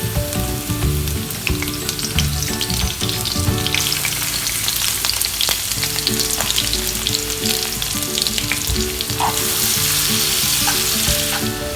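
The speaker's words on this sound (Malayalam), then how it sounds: "ഓയിൽ ചൂടാവുമ്പം അതിലേക്ക് കുറച്ച് വെളുത്തുള്ളി ചതച്ചതിട്ട് കൊടുക്കാം" Crushed garlic sizzles and fries in hot oil in a pan, a steady dense crackle that holds for the whole stretch with occasional stirring scrapes and no voices.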